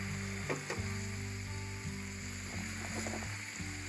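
Frozen bacon sizzles on a griddle at a snowy winter campsite, a soft, steady crackle and spatter heard up close and faint, with low hums and brief knocks underneath.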